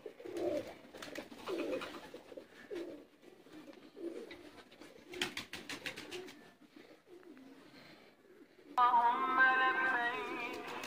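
Pigeons coo again and again in low, soft bursts, then a louder, busier stretch of bird calls takes over near the end.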